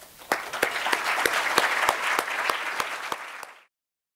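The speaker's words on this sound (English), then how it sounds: "I want to give you all a round of applause." An audience at a national mentoring summit's opening session claps in a short burst of applause with a few distinct sharp claps standing out, lasting a few seconds before cutting to silence.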